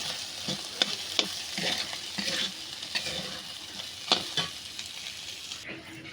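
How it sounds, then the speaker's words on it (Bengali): Frying in oil with black cumin added, a steady soft sizzle under scattered scraping stirs of a spoon against the pan, close and continuous. "তেলে ভেজে নিচ্ছি"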